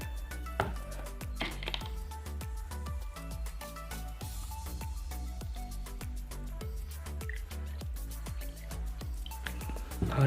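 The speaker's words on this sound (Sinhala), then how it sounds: "අපි මේකට වතුර පුරවලා බලමු ඉස්සෙල්ලාම" Water is poured into an H09 humidifier, making a quiet run of rapid, evenly spaced drips and small splashes close by.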